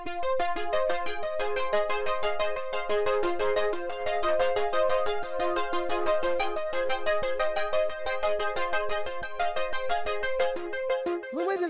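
A bright synthwave synthesizer lead plays a repeating melody of short, punchy notes at a steady tempo, alone and prominent throughout.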